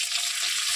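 Garlic, whole cumin and a dried chilli frying in hot oil in a kadai give a steady, close hiss of sizzling that runs unbroken through a short moment with no voices.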